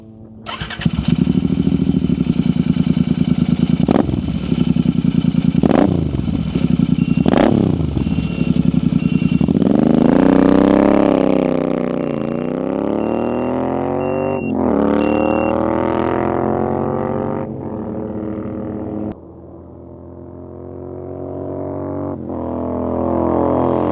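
A motorcycle fitted with a K-Speed Diabolus Diablo Thunder slip-on exhaust out on a test ride, loud and close, with sharp throttle blips early on, then rising and falling revs through gear changes and a quieter idle near the end.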